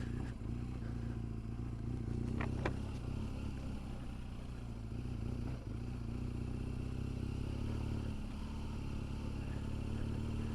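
A BMW GS 1200 motorcycle riding slowly off-road over frozen, icy ground, a steady low engine drone with occasional scrapes and clatters close by.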